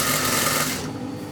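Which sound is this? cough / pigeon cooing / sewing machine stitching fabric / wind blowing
sewing machine stitching fabric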